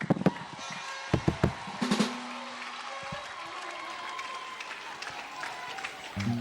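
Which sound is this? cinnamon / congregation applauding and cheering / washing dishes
congregation applauding and cheering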